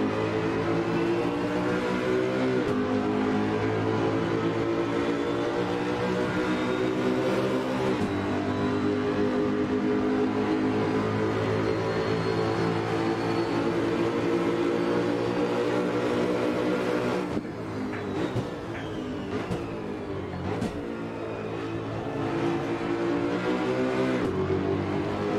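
A Ford Mustang GT4 with a big engine, in the racing game Assetto Corsa, drones loudly at sustained high revs, with a brief drop around a gear change before climbing again. No talking.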